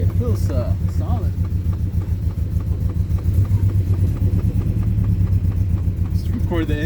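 Engine of a topless 1970 Datsun Roadster SPL311 on a test drive, a steady low droning rumble with a throbbing pulse throughout, close and loud, while people talk over it.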